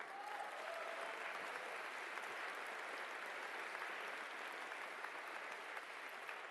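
Sustained applause from a large lecture audience in Mexico City, a dense even wash of clapping that holds steady throughout.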